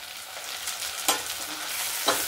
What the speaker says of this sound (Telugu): అల్లం వెల్లుల్లి బాగా వేగిందండి, పచ్చివాసన పోయింది.